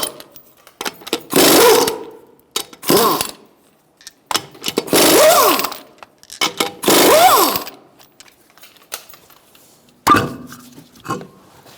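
An impact wrench with a 21mm socket spins off the front wheel lug nuts of a Hyundai Accent 1.6 liter in several loud, close, buzzing bursts of a second or so, separated by pauses.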